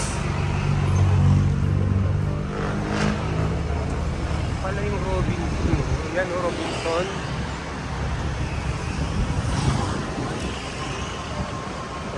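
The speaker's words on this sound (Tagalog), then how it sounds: "Ayan traffic naman." Steady street traffic in Malabon heard from a moving e-bike, with a continuous roar of passing cars and engines, some swelling close by and others farther off, while someone talks over the noise.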